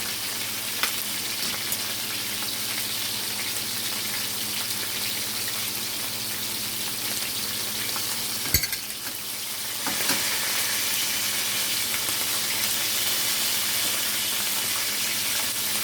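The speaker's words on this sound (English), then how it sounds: "Just make sure they get fried. Because they're thick, just flip them over and let them get fried all around." Thick pieces of escovitch codfish frying in a pot, dense continuous sizzle and crackle close up, with a brief clatter of the fish being flipped midway, no talking.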